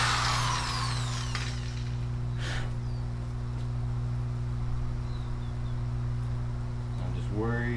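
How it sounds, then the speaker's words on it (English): Power drill reaming out a drilled hole for a fishtank viewing window build, a steady loud motor whine that continues throughout, with a brief higher scrape early on and a rising whir at the end. "Let me ream out the hole a little bit."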